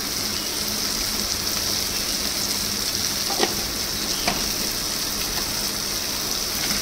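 Chickpeas sizzle and fry in a pan just after turmeric is added, a steady close crackling hiss with a couple of brief stirring clicks and no talking.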